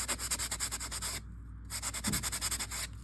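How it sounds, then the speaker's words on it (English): Sandpaper rubs rhythmically against a foam board glider wing where it tapers into the fuselage, producing close, steady scratchy strokes with a short pause midway. "And I'm going ahead and sanding this little part that tapers into the fuselage as well."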